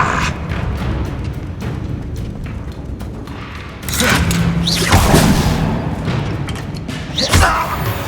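A Confringo blasting spell from the video game Hogwarts Legacy lands as a loud, booming burst about midway, rising over a steady bed of game ambience and fading into rumbling debris, with a smaller crack following shortly after.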